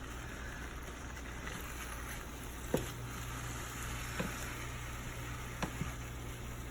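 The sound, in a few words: eggs frying in a pan for egg fried rice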